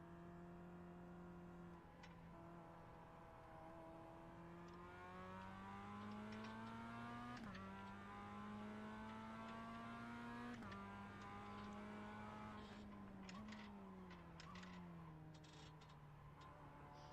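Simulated Mazda MX-5 Cup race car engine at Tsukuba Circuit, a steady, loud drone alone with pitch shifting up and down through several gear changes and revs.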